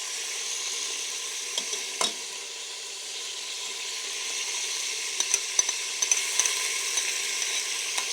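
Garlic frying over a high flame in a pan for restaurant-style daal chana, a continuous hissing sizzle with a few light clicks and taps of stirring, moderately loud and without talk.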